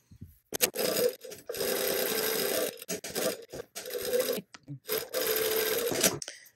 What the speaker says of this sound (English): I am going to sew it, but I'm just going to within the seam allowance.